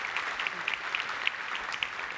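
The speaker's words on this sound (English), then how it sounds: "let's give them another round of applause" An audience applauds founders after a live demo at a large developer event, a steady wash of clapping with scattered sharper claps, moderately distant and continuing without a break.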